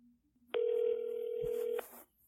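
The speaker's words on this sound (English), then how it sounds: "Oh, I think it's ringing." A telephone ringback tone on an outgoing call: one steady electronic ring lasting a little over a second, fairly faint and heard alone with no talk over it.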